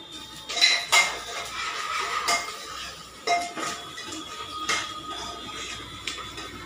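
Pulao ingredients stir-roasted in a pot until brown, heard as a series of close metallic clanks and scrapes of a spoon against the pot at an irregular pace, with only faint frying noise beneath.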